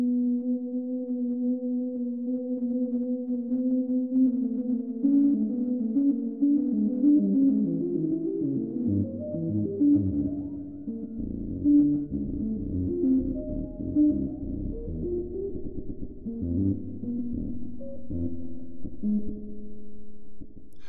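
ARP 2600 synthesizer with sample and hold modulation from its noise generator, a steady tone that breaks into stepping, randomly jumping pitched blips in a continuous sequence at moderate level.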